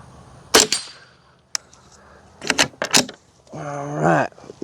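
Suppressed gunshots from a rifle fitted with an Anechoic X22 suppressor on a range: two sharp muted cracks with a faint metallic ring, a tiny click between them, and a short whine of a steel target being struck afterward.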